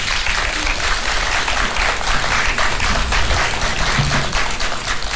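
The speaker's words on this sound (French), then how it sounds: "je voudrais, s'il vous plaît, un tonnerre d'applaudissements pendant 30 secondes pour la RTN" An assembled audience in Niger gives a thunderous round of applause for the RTN national broadcaster, a loud, dense, continuous wash of clapping heard throughout.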